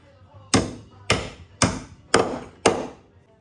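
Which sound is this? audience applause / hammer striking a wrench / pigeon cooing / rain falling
hammer striking a wrench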